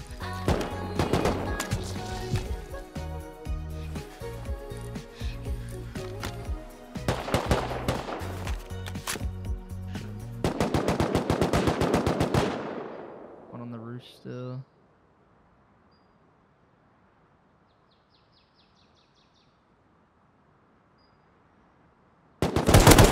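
Rapid bursts of gunfire in the survival game Rust ring out loud and close, layered with overlapping shots and voices talking over a base fight, then cut to near silence before a final loud burst.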